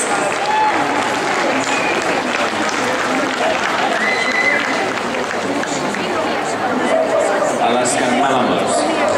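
Crowd applause at an international dog show final, steady clapping mixed with chatter and cheering from a large arena audience, continuous and fairly loud throughout.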